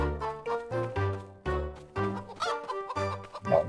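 Rapid, repeated clucking from a chicken in the Roblox video game, bright and close, in quick bursts with brief gaps, set against electronic game-like tones.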